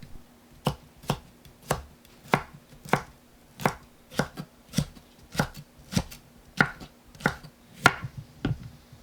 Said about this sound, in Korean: 파프리카 반 개를 씨 빼고 채 썰어서 준비합니다